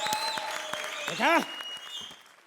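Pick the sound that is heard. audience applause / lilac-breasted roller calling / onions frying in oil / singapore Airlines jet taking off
audience applause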